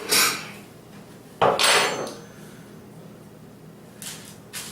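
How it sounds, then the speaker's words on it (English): Keto cauliflower-crust pizza slid across a stone slab and cut with a knife: a short scrape, a louder scraping slide, then faint cutting sounds near the end. "I'm going to slide it off here on my stone slab, cut a slice off, and have a taste"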